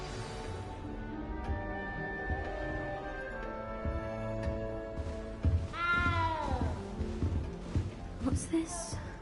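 A cat meows several times in Hogwarts Legacy, the calls rising and falling over soft game music and ambience, with a voice speaking briefly near the end.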